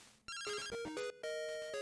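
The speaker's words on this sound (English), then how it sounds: "And we get a phone call." A phone rings in the Pokemon Crystal Clear video game, a short chiptune jingle of bright stepped electronic beeps that repeats a rising and falling pattern. It plays alone and loud.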